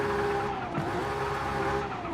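A rear-wheel-drive car drifts in Forza Horizon in sim mode, its tires skidding in one sustained, loud squeal over a steady engine drone.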